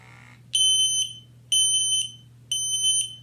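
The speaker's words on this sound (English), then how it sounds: "when we cover that, it's going to let us know that the air has been blocked and that it's no longer giving us an accurate reading" Ventis MX4 gas detector sounding its pump-blocked alarm: three loud, evenly spaced electronic beep bursts about a second apart, each a shrill steady tone, over a faint low hum.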